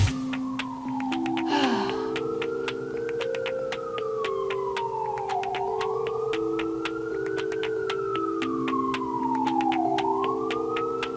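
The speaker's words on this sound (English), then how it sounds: "That's an ambulance." An ambulance siren passing outside, a loud wailing tone that sweeps slowly up and down in long repeated cycles over a steady background, with no one talking.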